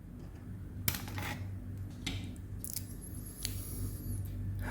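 Scissors snip through the cable cover of a mini travel handheld iron during a repair: a few sharp, crisp cuts spaced over several seconds, close by, over a low steady hum.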